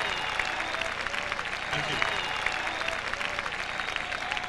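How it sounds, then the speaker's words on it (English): A crowd at an outdoor housing rally at the US Capitol in Washington DC gives a sustained round of applause, dense clapping and cheering continuing throughout at close range. "Will you give him a round of applause?"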